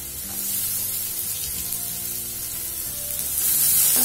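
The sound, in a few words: beetroot sautéing in a pan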